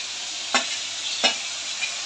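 Pointed gourd stir-fries in a pan for a potato and soybean vegetable curry, with a steady sizzle broken by a few separate spoon scrapes, close and fairly quiet.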